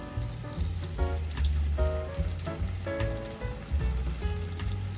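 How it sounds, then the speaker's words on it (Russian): Adyghe cheese pieces fry in hot oil, a close steady sizzle with spitting pops and small clatters over low pan hum, no one talking. "Масло разогрели и кладем кусочки сыра."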